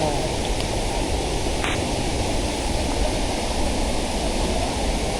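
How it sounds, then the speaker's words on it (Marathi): The Ukshi Ranpat waterfall beside the Konkan railway line roars as a constant, loud, broadband rush of falling water. It stays unbroken throughout, with no voices over it. "आणि आपल्या समोर आहे उक्षीर रानपाट धबधबा."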